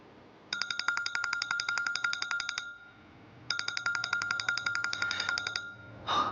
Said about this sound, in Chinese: 公司的电话，我出去接一下。